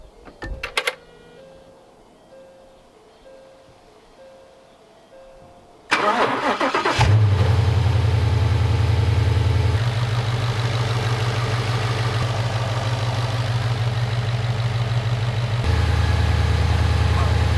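A 2017 Ford Mustang GT, rebuilt after a wreck, fires up after a quiet stretch with a few clicks; the engine cranks, catches and settles into a loud, steady, close idle with a deep rumble.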